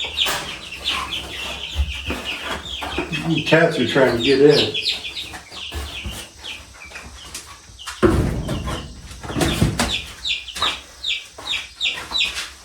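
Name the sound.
chickens clucking in a coop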